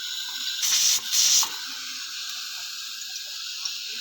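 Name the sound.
pressure cooker hissing steam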